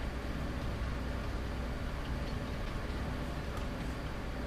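Steady, dense rumble of a train running along the track in Farming Simulator 25, continuous and even with no voices.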